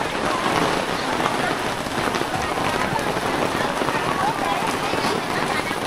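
Steady rain pours down on a market in Cai Son, Phung Hiep, Hau Giang, a dense hiss of drops on surfaces running throughout, with voices talking underneath.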